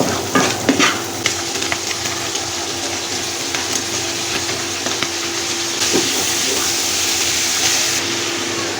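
An egg with turmeric powder fries in a pan with a steady, close hiss of sizzling oil, broken by a few clinks and stirring scrapes early on and no talking.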